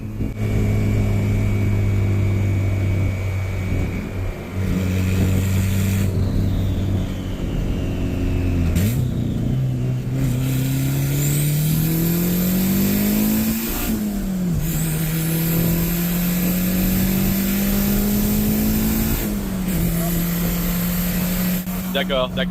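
A turbocharged Honda Civic accelerates hard through the gears from inside the cabin, its engine note climbing in loud sustained pulls broken by brief drops at each shift, with turbo whistle above and voices talking over it.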